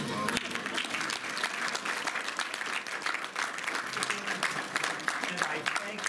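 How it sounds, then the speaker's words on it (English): A theatre audience applauds at a stage magic presentation, dense sustained clapping that stays steady and loud throughout with no pauses. "You may express your applause at any moment"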